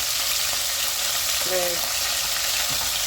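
Onions frying in hot oil in a home kitchen pan give off a steady, dense sizzle that runs for the whole stretch, with a brief faint voice-like tone partway through.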